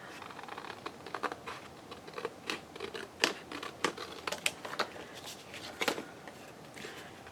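Scissors cut through collaged paper postcards in a run of crisp, irregular snips and paper rustles, close and fairly quiet, with no talking.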